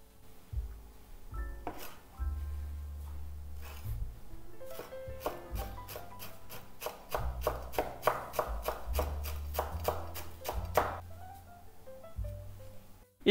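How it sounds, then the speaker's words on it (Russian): A knife chops fresh dill rapidly on a cutting board, a quick run of sharp taps building to a fast burst, with a few scattered cuts before and after. "И осталось только нарезать свежего укропа."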